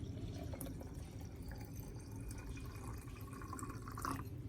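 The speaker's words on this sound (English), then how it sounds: "I use the diluted garlic and turmeric solution to water the base of the Anthurium plant." A diluted garlic and turmeric solution trickles and drips softly onto the soil at the base of an Anthurium plant, a quiet steady pour with faint splashes, close by and without talking.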